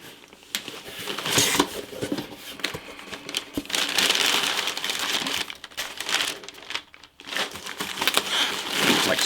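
Packaging material from a box of comics crinkles and crumples up close as it is pulled apart and handled in bursts of crackling, with brief pauses in between and no talking.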